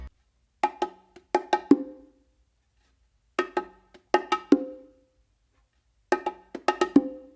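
Bongo drums play a short basic pattern of quick hand strokes three times, each phrase separated by a brief silence.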